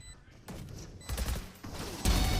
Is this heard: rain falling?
no